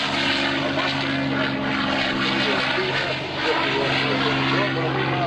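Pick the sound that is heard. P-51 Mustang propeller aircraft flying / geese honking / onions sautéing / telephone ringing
P-51 Mustang propeller aircraft flying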